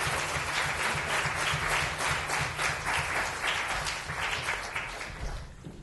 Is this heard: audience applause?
yes